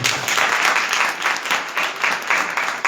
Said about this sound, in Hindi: एक ताली दीजिए प्रभु